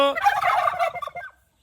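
A caged turkey answers a call with one loud, close, rattling gobble that lasts about a second before cutting off into silence.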